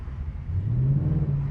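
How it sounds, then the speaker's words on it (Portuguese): A Ford Mustang Dark Horse V8 with its exhaust in track mode revs up into a deep, rumbling growl, rising in pitch briefly before settling, heard close and fairly loud. "você podendo curtir aí o seu Ford Mustang, ouvindo esse ronco"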